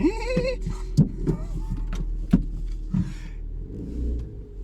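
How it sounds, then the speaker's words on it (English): A Nissan Micra K12 1.2 starter motor cranks in short rhythmic pulses before the engine catches and settles into a steady low idle, close by with a constant low hum underneath. "Classic old school Japanese sounding starting motor."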